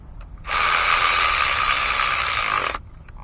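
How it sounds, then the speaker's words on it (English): A ratchet runs bolts down on a 2011 Chevy Equinox 2.4 litre engine during camshaft actuator repair: one continuous, rapid clicking whir lasting about two seconds, close and loud, then stopping abruptly. "Reverse your ratchet. Run them down slow."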